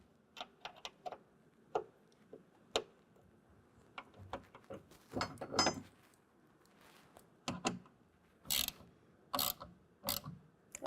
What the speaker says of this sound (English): now we're going to go ahead and run that down with a 4mm Allen wrench